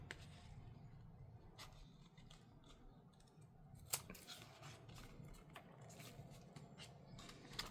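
Quiet snips of scissors cutting off tape ends while making a no-sew journal, several short crisp cuts and soft rustles close by, with a louder snip midway.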